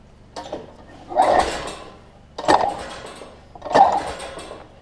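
A Lawn Boy self-propelled mower with a new carburetor being pull-started, three separate cranking pulls about a second apart, close by, each a short rasping whir of the recoil starter and engine turning over.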